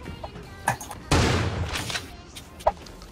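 Shotgun fire in the mobile shooter game Creative Destruction: one loud, sustained blast in the middle, framed by a few sharper, smaller pops before and after, with no talking.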